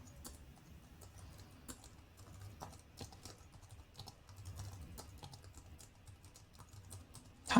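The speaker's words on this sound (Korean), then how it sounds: "그냥 일반 엔터가 아닌 쉬프트 엔터를 쳐주세요" Quiet, close keystrokes on a computer keyboard, irregular clicks and taps in short runs including a Shift+Enter press, with a sharper key hit at the very end and no speech.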